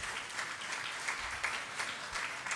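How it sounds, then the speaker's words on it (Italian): Audience applause at a political event, a soft, distant and steady patter of many hands with small rhythmic pulses throughout. "applauso."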